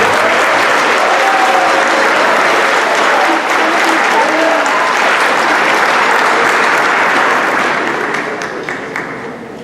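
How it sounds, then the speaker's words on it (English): Loud, dense applause from an audience at a school spring band concert, sustained clapping and crowd noise that fades toward the end. "Can we give those students a round of applause"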